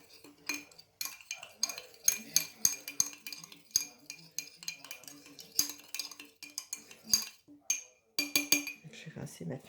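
A spoon stirs freshly mixed paint with a few drops of blue and added water in a container, making repeated close clinks and scraping taps against the sides in an irregular rhythm, with occasional speech nearby.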